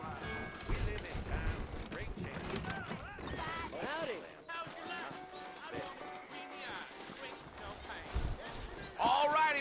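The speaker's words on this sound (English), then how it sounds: "I got the horses saddled up and ready out front." Saddled horses clip-clop at a trot in the video game Red Dead Redemption, hooves steady under game characters talking, with a brief whinny and creaking tack.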